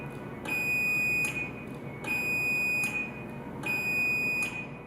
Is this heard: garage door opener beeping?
yes